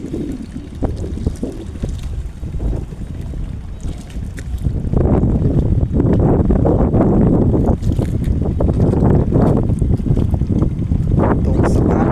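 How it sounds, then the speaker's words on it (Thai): Low rumbling engine of a large steel boat and wind noise by a beach on the Gulf of Thailand, growing louder partway through as the vessel draws nearer, with water and buffeting throughout. "เรือเหล็กกำลังมาครับกำลังเขาฟัง"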